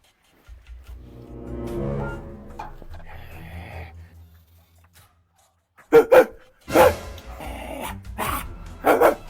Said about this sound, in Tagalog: Ano ba naman tong asong to? Doon ka na!